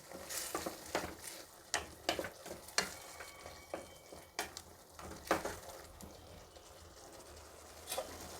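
Tomato puree frying with onions in a pan, a steady close sizzle broken by repeated stirring scrapes and short clatters, with no one talking.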